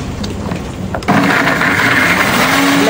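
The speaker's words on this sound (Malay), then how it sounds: "kita nak blend bawang putih dengan halia" Electric blender whirring through garlic and ginger for a spiced fried-onion curry, switching on abruptly after a quiet moment and running at a loud, steady whine.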